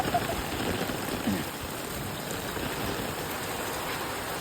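Heavy rain keeps falling outdoors in a continuous close wash of noise, its level holding steady from start to finish.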